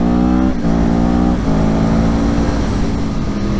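Yamaha R1 RN22 motorcycle engine held at steady revs around mid-range while riding, a loud continuous close-up drone with slight pitch shifts and wind rush, no talking.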